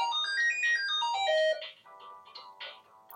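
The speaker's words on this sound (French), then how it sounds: "Désolé pour le téléphone." A mobile phone ringtone plays nearby, a loud melodic electronic tune of rising and falling notes that breaks off halfway, followed by softer rustling and handling sounds.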